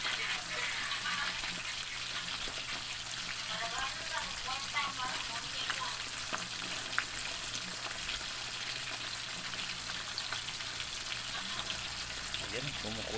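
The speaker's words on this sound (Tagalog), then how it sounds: "kumukulo na, kumukulo" Steady bubbling and hissing of water boiling in a pot over a wood fire, with faint crackling underneath and distant voices murmuring, a continuous even wash of sound.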